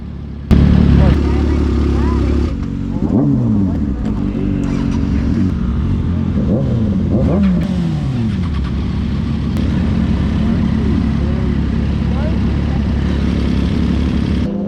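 A hand-built Italian MV Agusta Dragster 800 motorcycle revs hard several times up close, its engine climbing and falling in loud repeated sweeps before settling into a steady running drone.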